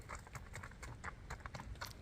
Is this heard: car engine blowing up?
no